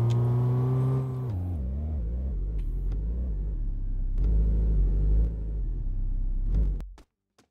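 A car engine in the farming trade game Village Dealer Simulator drones steadily at low pitch, shifting gears with rising and falling tones before cutting off abruptly near the end, with no talk over it.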